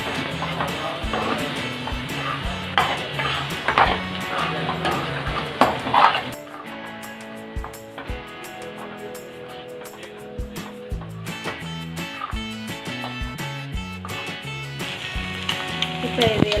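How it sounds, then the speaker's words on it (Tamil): Broccoli and egg being stirred as they fry in a pan: steady sizzling with frequent scraping and clinking of a utensil against the pan, close up, under background music. "இந்த காயோடு நல்லா மிக்ஸ் பண்ணிடுவோம்."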